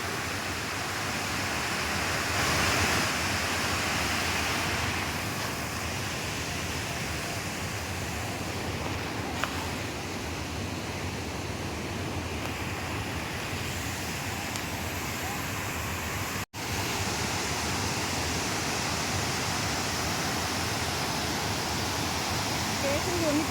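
Loud, steady rush of flowing water fills the air near a hillside outdoors, a constant broadband roar that barely changes, with a voice faintly present beneath it.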